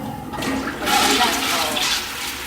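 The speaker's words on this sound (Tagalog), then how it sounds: "Pagka-flush nyo, yung hahawakan na, pakapaahin nyo." An old-style Japanese toilet flushes with a rushing surge of water that swells and holds for about two seconds, close and fairly loud.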